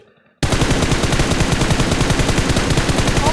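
Rapid automatic gunfire from PUBG Mobile erupts abruptly after a moment of near silence, a loud, steady stream of close shots hammering on without pause.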